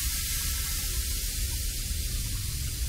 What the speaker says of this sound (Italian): Hanno spento il fuoco l'acqua.